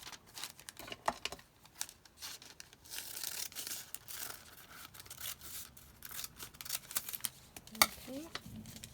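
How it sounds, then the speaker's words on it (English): Greaseproof paper crumpled and torn by hand in a kitchen, a run of crisp crinkling, rustling and ripping bursts with short pauses, close and moderately loud. "Let's take some more of the greaseproof paper."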